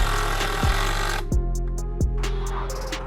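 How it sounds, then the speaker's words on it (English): A Sawzall reciprocating saw cutting through wooden legs of a backyard mountain bike gap jump, a loud, rapid buzzing stroke with periodic thumps and a shift in pitch as the blade works, close up. "finished off all the legs with the sawzall to make room for the planks"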